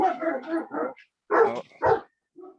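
Dogs fight at a fence, barking and snarling loudly in close, rough bursts that come in quick clusters separated by brief pauses.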